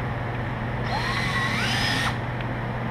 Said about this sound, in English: I'm going to take the 1/8 inch bit and drill my pilot hole